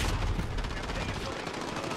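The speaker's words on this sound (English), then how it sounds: "I'm using a SMG." Rapid SMG fire in the video game Call of Duty: Modern Warfare, a dense continuous burst of shots throughout, fairly loud and close.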